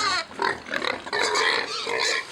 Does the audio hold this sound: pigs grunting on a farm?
yes